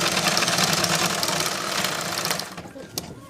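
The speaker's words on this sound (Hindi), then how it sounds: "इसको इस तरह से हम पूरे में सिलाई लगा देंगे।" A sewing machine stitches blouse fabric with a fast, continuous mechanical whirr and rhythmic needle clatter, close and loud, then slows and stops near the end with a last sharp click.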